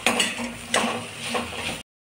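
Dried Bombay duck (bombil) is stir-fried in a pan, with a soft sizzle under a few scraping strokes and light clinks of a spoon against the metal, close and brief.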